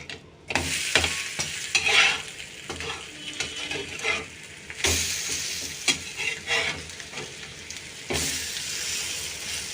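Rava sandwich frying in ghee in a pan just after being flipped, a steady close sizzle broken by several scraping and stirring strokes, with no talking.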